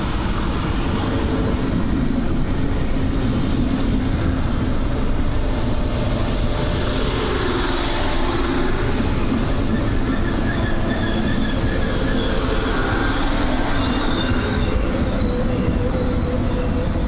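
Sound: Berlin S-Bahn class 485 train running on rails

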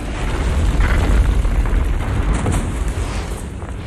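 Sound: booby trap explosion in The Hunger Games film

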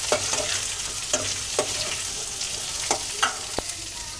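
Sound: chopped onions stirred and frying with peanuts in pan

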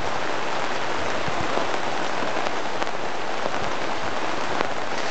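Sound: rain falling

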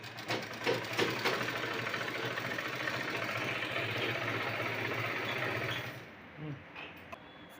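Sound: sewing machine stitching a blouse

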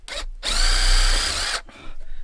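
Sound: power drill drilling pilot holes

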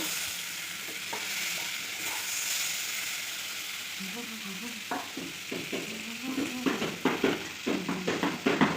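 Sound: water added to a sizzling cooking pan

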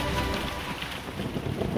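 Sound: hailstorm with wind in an animated Bible story

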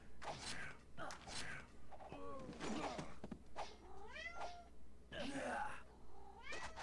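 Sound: pet cat meowing

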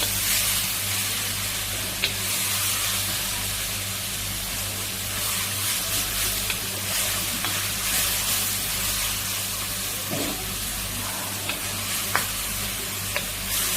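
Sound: onion frying in hot pan for empanada filling

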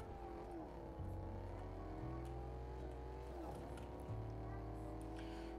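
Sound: car doing donuts in a field in the video game Fortnite

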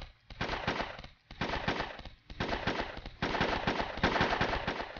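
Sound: G-man unit shooting in Roblox Toilet Tower Defense video game

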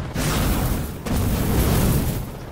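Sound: tank shell explosion in Enlisted video game

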